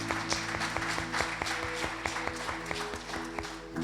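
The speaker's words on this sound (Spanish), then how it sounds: "Demos un aplauso al Señor." Congregation applauding during a church service, continuous crowd clapping with a low music or organ tone underneath, steady and moderately loud throughout.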